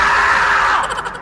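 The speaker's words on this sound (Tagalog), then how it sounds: "Ito ang dagang marmot at kaaaliwan mo ang kanilang boses." A marmot lets out a single shrill scream, loud and sustained for about a second before it breaks up and trails off.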